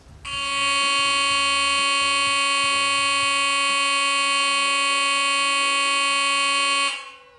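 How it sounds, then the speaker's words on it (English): A loud preschool fire alarm blares a steady, harsh electronic tone for about six seconds without pause, then cuts off abruptly. "this is what you get to hear when that fire alarm starts"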